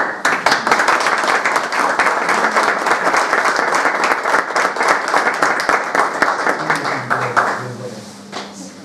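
Steady crowd applause at a national park anniversary ceremony, dense clapping that runs loud for most of the stretch before thinning and fading near the end.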